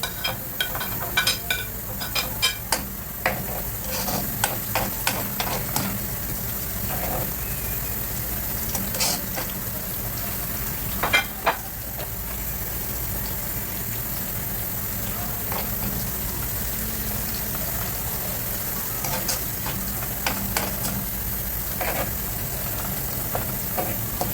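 Onions sizzle and crackle steadily in a hot pan while sotanghon is cooked, a continuous close hiss with scattered pops throughout.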